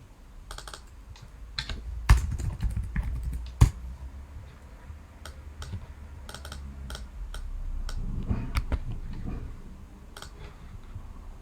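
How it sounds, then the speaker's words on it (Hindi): Quiet, close typing on a computer keyboard, irregular runs of light key clicks with a few sharper taps, alone without talk. "मैं यहाँ टाइप कर देता हूँ।"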